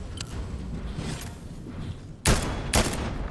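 Blue pistol gunfire in the Fortnite video game: two sharp, loud shots about half a second apart near the end, over a busy game background.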